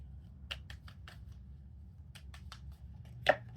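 Tarot cards shuffle and get drawn, a run of quick, soft riffling flicks close by, then a pause, another burst of flicking and a sharper snap as a card is laid down.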